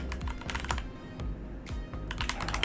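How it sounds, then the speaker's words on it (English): Rapid keystrokes on a computer keyboard during a live coding session, close and crisp, with irregular bursts of clicking and short pauses, and no voices. "Stop typing that wrong."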